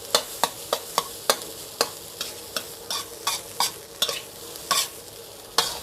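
A spatula scrapes sharply and rhythmically against a pan as food is stir-fried dry over a gentle sizzle, with strokes landing roughly every half second, close and distinct.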